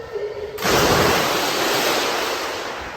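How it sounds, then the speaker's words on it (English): Someone jumps into a still sea at night, and a sudden loud splash gives way to a broad, rushing wash of churning water that slowly fades. "There was a big splash."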